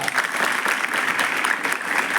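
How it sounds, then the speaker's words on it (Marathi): A crowd of students claps loudly and steadily after a speech, a thick continuous burst of applause filling the short stretch. "माझं भाषण आवडलं असेल तर जोराने टाळ्या वाजवा"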